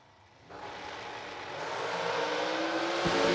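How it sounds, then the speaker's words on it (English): A JB Strasweg hot rod drag racing engine at a TB Promotions event, loud and building, a sharp rise in roar after half a second then a sustained high-revving launch that keeps swelling to the end. "Driving that JB Strasweg hot rod."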